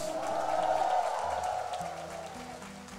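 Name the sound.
congregation applause and cheering for Jesus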